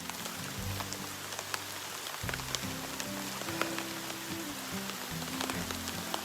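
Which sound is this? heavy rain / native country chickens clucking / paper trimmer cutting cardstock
heavy rain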